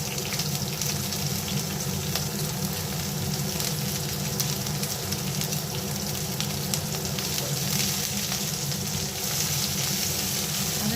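Chopped onion sizzles in hot oil alongside eggplant slices in a pan, a steady, close crackling hiss that runs evenly throughout with no talking.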